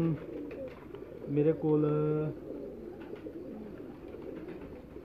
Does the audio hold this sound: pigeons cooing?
yes